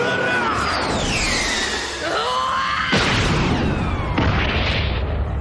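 A powerful anime punch lands as Luffy strikes the spring-heeled pirate Bellamy: whooshing sweeps build into two heavy booming impacts, loud and close, with dramatic score running under them.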